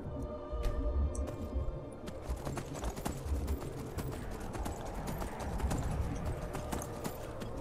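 Horse hooves galloping in Skyrim, a rapid continuous clip-clop beat, moderately loud over faint game ambience.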